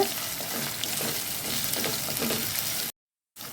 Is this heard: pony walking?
no